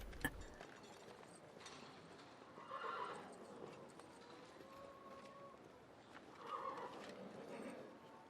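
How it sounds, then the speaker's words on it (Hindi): Horses whinny twice in a period drama, each neigh rising over a quiet background of hooves clip-clopping at a moderate distance. "राजकुमारी, ये घोड़े किस?"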